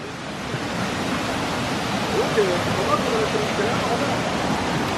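A river rushes through a jungle cave area, a loud, steady broadband roar of flowing water that fills the scene without pause.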